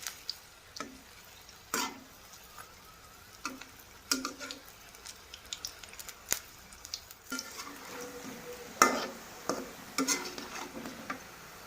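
Pitha cakes frying in hot oil in a Bangladeshi village kitchen, with a soft low sizzle broken by sharp clicks and scrapes of utensils against the pan, close and fairly quiet.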